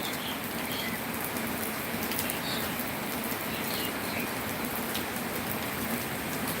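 Steady early-morning rain pours down evenly in rural Thailand, a dense hiss of drops on surfaces with faint scattered birdsong in the background.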